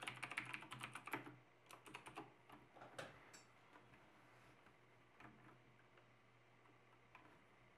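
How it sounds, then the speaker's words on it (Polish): Keys clacking on a Razer BlackWidow Tournament mechanical keyboard, a quick burst of crisp, fairly quiet clicks that thins into scattered single presses over steady low background hum, with no voices. "Klawisze chodzą z takim właśnie słyszalnym skokiem i kliknięciem naciśnięcia, ale jest to bardzo fajny dźwięk"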